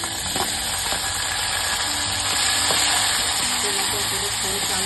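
Curry leaves and tomatoes sizzle in hot oil for a dal tadka, a steady close frying hiss with occasional stirring clinks and faint background hum, no talking over it.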